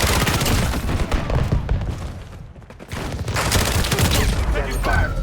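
Dense, sustained gunfire from the video game Call of Duty Modern Warfare, with overlapping rapid shots and booms that dip briefly in the middle before resuming at full intensity.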